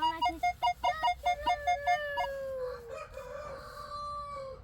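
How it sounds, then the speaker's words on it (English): A rooster crows outdoors, a rapid series of short pulsed notes ending in one long drawn-out call, loud and fairly close, with no talk over it. "It's a rooster."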